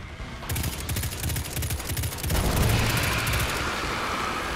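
Gunfire in the video game Destiny 2, a pistol firing fast repeated shots up close, loud and continuous over rumbling game noise, with the pace shifting partway through.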